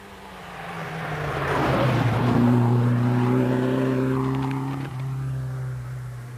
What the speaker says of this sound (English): just gone by there you had Frank Maher being closely followed by Joe Butler in an Opel Manta.